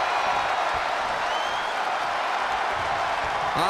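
A video-game wrestling arena crowd in WWE 2K20 keeps up a steady wash of cheering and applause from a distance, with no breaks.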